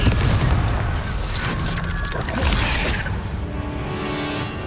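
Confringo blasting spell explosions in the video game Hogwarts Legacy, a loud continuous barrage of booming blasts and crackling bursts with dense mechanical effects throughout.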